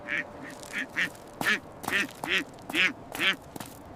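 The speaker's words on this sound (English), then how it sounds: "Quack!" A cartoon duckling gives a run of about eight nasal quacks, short and bright at first, then louder and more drawn out, at a fairly quick steady pace. It is clear and close, with no talking over it.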